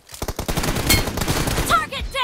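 Rapid gunfire crackles through a video game shootout, dense bursts of shots running back to back and loud throughout, with no talking over it.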